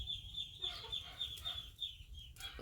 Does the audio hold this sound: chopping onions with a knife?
no